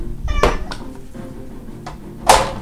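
A cat meows twice, fairly close, with short tonal calls spaced about two seconds apart over a low background hum.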